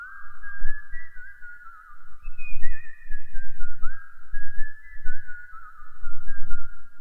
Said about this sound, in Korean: 그리고 휘파람도 보세요